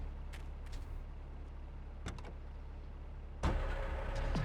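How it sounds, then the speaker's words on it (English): A garbage truck driven in Grand Theft Auto III gives a steady low engine rumble with a few brief clicks, then a louder, fuller burst of engine noise near the end. "Of course, I had to be a garbage truck."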